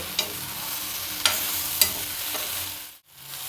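Okra fries in a pan with a soft steady sizzle, broken by a few sharp scraping stir strokes, heard up close before the sound briefly cuts out near the end.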